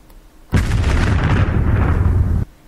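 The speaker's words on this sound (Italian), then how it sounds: "come sempre una salva di cannone da 149" A salvo from a 149 mm cannon booms out as one sustained, heavy blast lasting about two seconds, loud and rumbling, then cutting off to quiet.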